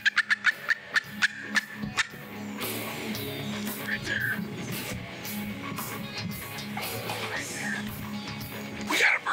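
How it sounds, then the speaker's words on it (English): A wild turkey gobbles from its roost, a rapid rattling call heard alongside a series of sharp clicks at the start, with quiet ambient rustling and faint sounds around it. "He just gobbled a couple times."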